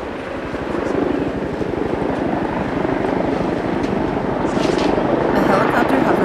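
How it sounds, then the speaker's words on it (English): A loud helicopter hovers overhead a protest, its rotor producing a fast rhythmic chop that fills the whole clip. "A helicopter hovers overhead."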